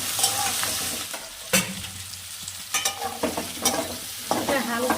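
Carrot, cauliflower pieces and green peas fry in oil in a kadai, a loud continuous sizzle broken by repeated scraping stirs at an uneven rhythm, close up with no talking.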